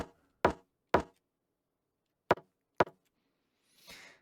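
Resampled kick drum top end plays four sharp, close knocking hits in two pairs, each with a brief decaying tail, followed by a softer, longer noisy swell at the end.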